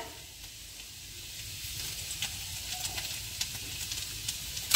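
Chopped garlic dropped into hot oil in a wok sizzles with a steady, soft hiss and faint crackles for a few seconds, close by with no voices.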